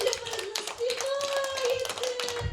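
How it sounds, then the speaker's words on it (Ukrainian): Dense, steady applause from a group clapping hands at a children's educational and rehabilitation centre, with a voice carrying on over the continuous clapping. "я вам аплодую"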